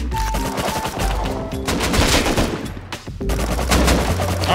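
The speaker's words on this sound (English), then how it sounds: "MP5 shreds through" MP5 submachine gun in the survival video game Rust, rapid automatic bursts rattling in several strings with short pauses, loud and close, mixed with other gunfire.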